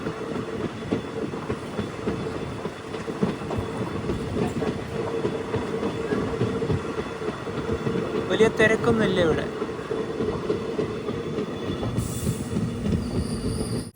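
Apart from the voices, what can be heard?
passenger train arriving at Nanguneri station, Tamil Nadu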